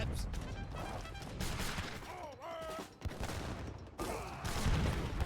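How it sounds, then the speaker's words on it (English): Heavy cannon fire booms and crashes in the Age of Empires III battle, a dense rolling barrage of blasts and impacts with clanking, fairly loud and continuous, with faint voices underneath. "Big heavy cannon wallops."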